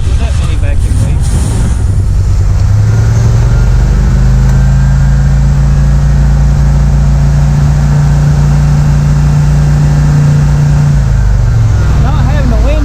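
A G-body Chevrolet El Camino engine with vacuum leaks revs up loudly, climbs to a held high drone and then drops back, with a clutch fan blowing and voices talking over it.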